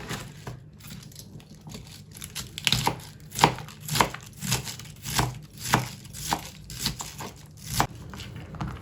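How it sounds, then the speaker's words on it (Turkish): Knife finely shredding cabbage on a board for eggplant pickle, a regular series of crisp, crunchy cuts close by, about one per half second. "Bu şekilde bütün lahanamızı bu incelikte kıyacağız."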